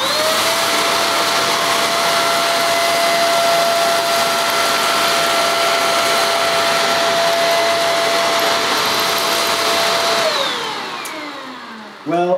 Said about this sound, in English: see how well the Shark copes with cleaning hard floors in upright mode